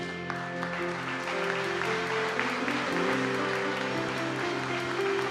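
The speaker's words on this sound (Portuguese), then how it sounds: "Vamos aplaudir a Jesus." A church congregation applauds during a family worship service, a continuous patter of clapping over sustained organ or keyboard chords, moderately quiet and unbroken.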